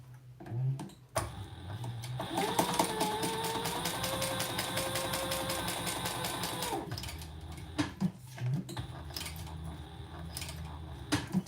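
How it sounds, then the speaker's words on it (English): A sewing machine stitches down the sides of a vinyl strip, running in one steady rapid mechanical burst of several seconds, framed by softer handling clicks and taps before and after. "I'm just going to sew down each side."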